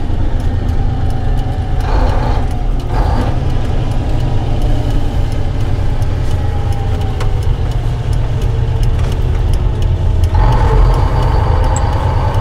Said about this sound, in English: I'll see the truck gearing down.